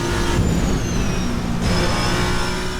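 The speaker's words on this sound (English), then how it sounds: "it's all electric up to 50 kilometers an hour, and then you hear that ICE fire up." Toyota TS050 race car in a video game mod, its combustion engine kicking in over a steady electric whine, a loud, continuous drone with a rising tone partway through and no voices.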